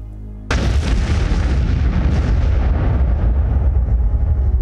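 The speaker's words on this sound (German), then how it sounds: "Doch dann geht die Bombe hoch." A bomb goes off in the Sarajevo assassination scene with a sudden loud blast after a brief low hum, followed by a sustained heavy rumbling roar that slowly fades over several seconds.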